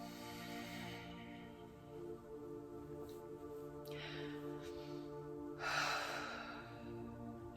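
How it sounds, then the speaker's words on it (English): During a chakra meditation, slow deep breaths are drawn in and let out, soft airy inhales and exhales over a steady hum of background drone. "remember your deep breaths"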